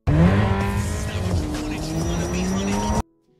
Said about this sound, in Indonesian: Keterampilan Jan menyetir membuat mereka berhasil lolos dari polisi